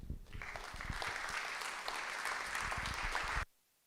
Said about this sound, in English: maybe welcome them with a round of applause